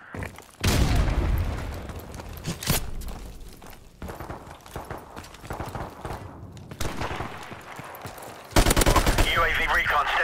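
Multiplayer gunfire in Call of Duty: Modern Warfare Remastered: loud sharp shots and rapid automatic bursts crack in clusters, with quieter stretches between them and game voice announcements mixed in.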